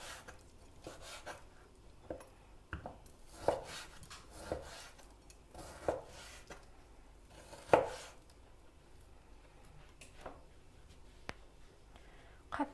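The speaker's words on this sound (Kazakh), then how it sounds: "Барлығын турап аламыз." A knife chops rib meat with attached fat for maqluba on a board at close range. Irregular, separate thuds come every second or so, some harder and louder, as the still-firm meat is cut into large pieces.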